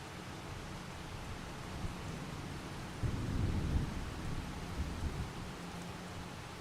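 Steady rain in the Farming Simulator 25 farm game, an even broadband hiss with a low rumbling swell in the middle like distant thunder. No voices are heard.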